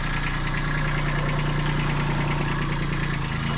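A tractor engine idles steadily, a close, loud, rumbling diesel-like drone with a rhythmic knocking pulse that holds even throughout, with no talk.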